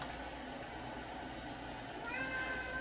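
A domestic cat meows once near the end, a short, moderately close meow after a stretch of low room hum.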